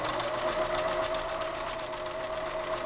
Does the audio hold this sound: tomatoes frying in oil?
no